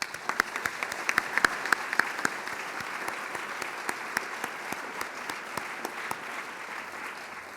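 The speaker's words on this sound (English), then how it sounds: "Please join me with a round of applause thanking all donors for their support." Audience at a Montgomery College fall opening meeting applauding to thank campaign donors, many hands clapping in a steady room-filling patter with a few sharper claps standing out, fading slightly toward the end.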